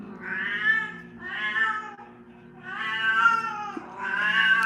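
An alley cat meows and caterwauls in four long, drawn-out yowls with short pauses between them, loud and close, with no talking.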